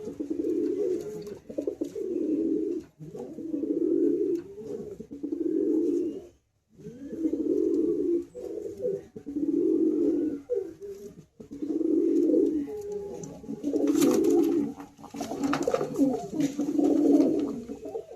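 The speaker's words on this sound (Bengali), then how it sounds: "মেলের ডাক দেখুন।" A male pigeon cooing inside a loft of high-flying Madrasi pigeons, repeating steady low, throaty coos in regular bursts across the clip, with brief pauses and some faint loft background noise.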